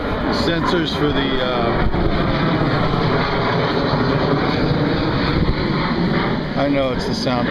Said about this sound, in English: Their F-16s flying up.